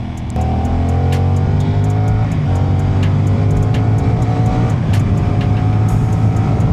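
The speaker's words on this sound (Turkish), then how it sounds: "Egzoz sesi beni benden alıyor." A loud, steady engine roar with rising and falling harmonic tones from a 450SR motorcycle exhaust, revving continuously up close with no talking.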